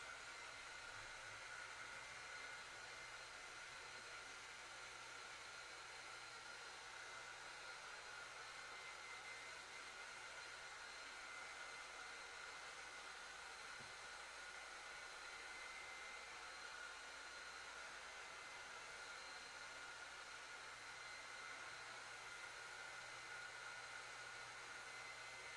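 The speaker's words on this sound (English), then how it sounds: "she's going full bore on that dryer" A hair dryer runs at full power throughout, a steady, fairly quiet whooshing drone with no talking over it.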